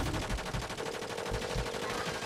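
Rapid rhythmic gunfire from a large building in the Call of Duty game, a loud, continuous stream of evenly spaced shots.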